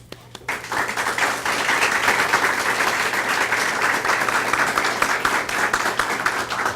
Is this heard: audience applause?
yes